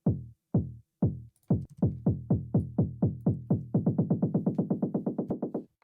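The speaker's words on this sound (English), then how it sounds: "In the break we got a little build-up kick." A filtered build-up kick drum in a dance track production hammers out deep, pitch-dropping thumps that start sparse and speed into a rapid, tightening roll.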